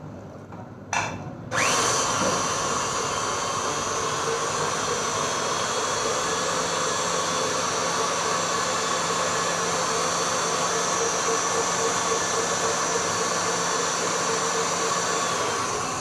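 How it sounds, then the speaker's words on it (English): Electric whisk beating tea cake batter with butter and milk, a steady close motor whine that runs unbroken after a brief start. "So now I'm adding the milk also to it and let it whisk."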